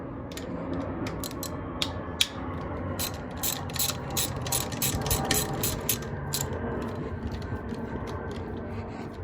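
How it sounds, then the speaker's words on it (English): A ratchet loosens 10mm valve cover bolts on a 1995 Honda Civic engine, giving off close, steady bursts of rapid clicking with short pauses between strokes and no talking. "there are another 2 10mm bolts right here. You gotta take these 2 off too."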